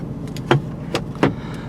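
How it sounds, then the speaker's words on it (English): Mercedes-AMG GT C Roadster's convertible roof in motion: a few short mechanical clunks and whirs at close range, with no talking. "When you press the brake and press this, the roof goes down or up."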